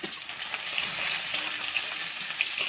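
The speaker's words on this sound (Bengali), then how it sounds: "রসুনটা ভালো করে ভাজা হয়ে গেছে, এবার শাকটা দিয়ে দিচ্ছি।" Crushed garlic, green and dried chillies and chopped onion frying in oil, a steady close sizzle and crackle with a few light pops.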